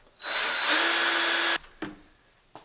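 A power drill bores into hardened stainless steel with a cobalt bit, a loud steady whine lasting over a second before cutting off, followed by a couple of brief fainter bursts.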